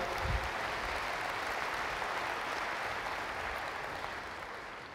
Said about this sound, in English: Once again, let's give him a round of applause.